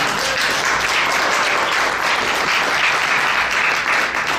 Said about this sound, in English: applause for my awesome husband